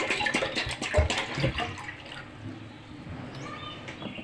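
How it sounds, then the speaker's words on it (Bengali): Date palm sap pouring into a cooking pot, a splashing, gurgling stream that is strongest at first and then settles into a softer trickle, close by. "তুলে একটা পাতিলের মধ্যে আমি ঢেলে দিচ্ছি রসগুলো"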